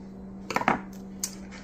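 A utensil poking holes in a potato before baking, a quick cluster of three or four light clicking taps followed by one more tap, over a steady low hum.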